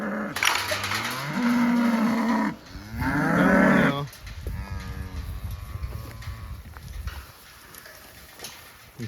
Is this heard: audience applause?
no